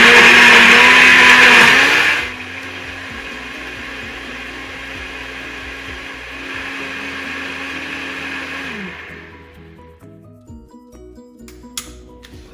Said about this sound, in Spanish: es mejor hacerlo aquí en el Nutribullet o en licuadora